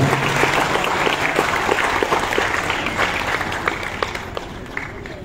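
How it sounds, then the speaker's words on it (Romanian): A crowd applauds steadily for a military guard brigade at a war veterans' ceremony in Călărași, many hands clapping in a dense patter that slowly thins out, with a few voices faintly beneath. "Vă rog să-i aplaudăm pentru prima dată în Călăraș"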